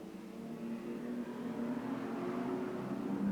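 A field of eighteen stock cars accelerating together from the start of a twenty-lap race, a dense engine drone that swells steadily and stays fairly distant.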